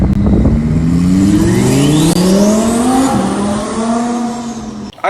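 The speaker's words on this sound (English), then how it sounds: "Nothing like putting turbos on the car and hearing that whistle on top of a V10 straight pipe motor." A turbocharged Lamborghini/Audi R8 V10 with straight pipe exhaust revs hard, its loud, rising engine note climbing through gears with a turbo whistle on top and a brief dip at a shift, very close.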